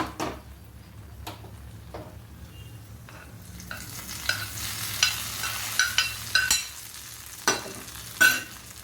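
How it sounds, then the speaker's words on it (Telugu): A spoon scrapes and stirs fried cashews through a Sankranti feast dish, with soft sizzling and a run of sharp clinks and taps against the pan getting louder toward the end. "జీడిపప్పులు వేయించేసుకొని దోరగా వేయించేసుకొని అదేమో ఇందులో వేసేసి కలిపేయాలండి"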